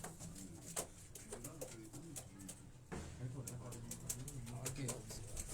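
Breeder racing pigeons in a loft coo in low, repeated rumbling phrases, with scattered clicks and faint wing rustles nearby; a voice murmurs quietly underneath.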